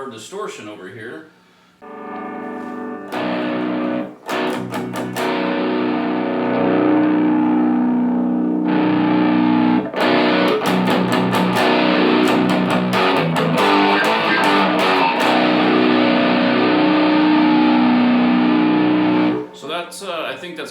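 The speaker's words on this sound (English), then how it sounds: "Now let's go to our distortion over here." A distorted electric guitar played through the distortion channel of a Peavey Bandit 112 combo amp, with sustained crunchy chords and strummed bursts that ring out loud and close for most of the passage.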